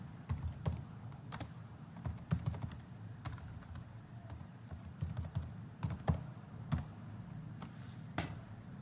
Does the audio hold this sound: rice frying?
no